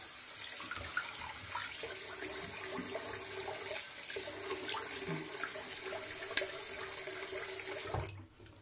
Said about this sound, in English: let me rinse my face a little bit